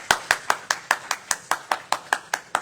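A single pair of hands claps steadily at a church service, about fourteen sharp, evenly spaced claps in under three seconds, close and fairly loud with no voices.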